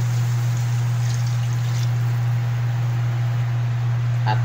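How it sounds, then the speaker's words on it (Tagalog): Steady pouring water, a continuous hissing trickle filling a cooking pot of pork sinigang with taro, with a constant low hum underneath and a faint clink near the end. "Tapos yan, lagyan ng tubig"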